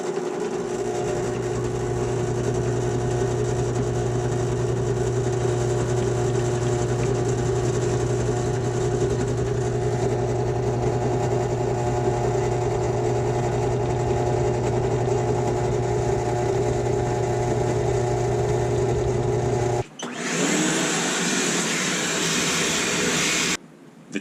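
A metal-cutting machine working through a cut, a steady loud tonal hum with droning harmonics and chattering vibration that runs for about twenty seconds, then abruptly cuts off into a brief burst of noisier sound.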